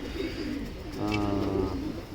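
Racing pigeons coo inside a loft, a soft rolling coo that swells in the middle and fades, fairly close and quiet, with no voices over it.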